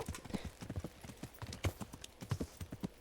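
Rapid, irregular clip-clop of horse hooves in the video game Kingdom Come: Deliverance, close and fairly crisp, with a faint whinny-like tone mixed in.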